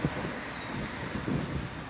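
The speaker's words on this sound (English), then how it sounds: "it's beautiful outside, but it is super windy, of course" Strong wind buffets outdoors, a steady rushing roar with gusty rumbles across the microphone, no voices.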